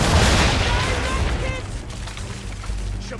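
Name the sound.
ship cannons firing a broadside in Assassin's Creed 3 video game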